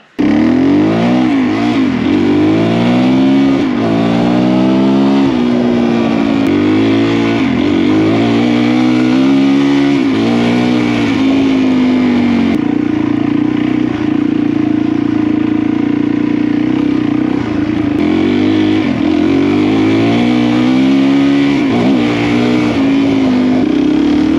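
A new enduro motorcycle's engine revs and pulls steadily on a test ride, loud and close throughout, with repeated rising and falling rev sweeps as it accelerates and eases off, and no talking.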